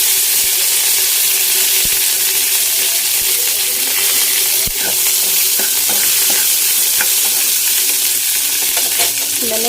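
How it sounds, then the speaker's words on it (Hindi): Curry leaves and dried red chilies fry in hot oil, giving a loud, steady, close sizzle with a few faint clinks and stirring scrapes throughout. "फिर हम डालेंगे कड़ी पत्ता, सूखा मिर्ची और"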